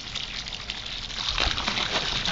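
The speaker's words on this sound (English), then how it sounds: "See, that's water's coming out of it." Water runs steadily into a filling backyard swimming pool fitted with a small chlorine dispenser. A soft, continuous trickle and gush grows fuller and louder partway through, with no talking.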